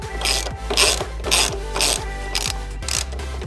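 Ratchet clicking steadily while backing a bolt out of a Puig R19 frame slider on a Kawasaki Z400, a close, loud rhythmic pawl ratcheting in about six repeated strokes.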